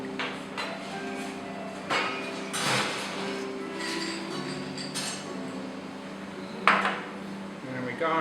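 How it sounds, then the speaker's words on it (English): A Bakewell Punch cocktail stirred briskly in a glass, with a scatter of soft clinks and scrapes against steady low room hum and faint background noise. "Give it a quick stir."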